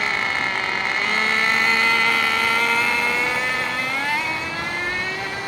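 A Thunder Tiger nitro RC car runs with a loud, buzzing two-stroke whine, holding a steady high pitch that climbs as it speeds up and then eases off near the end; no one speaks.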